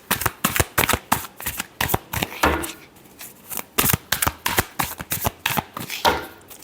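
Tarot cards are shuffled by hand in a steady run of quick, close riffling bursts, loud and rhythmic, with no voice over them.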